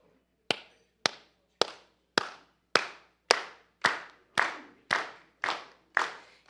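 A group of people claps in unison, eleven sharp, evenly spaced claps about half a second apart, close and loud, with no talking.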